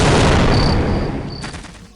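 Airstrike explosions in the They Hunger Trilogy game mod: a loud, close blast that rumbles and slowly decays, with thin tonal ringing and a sharp crack near the end.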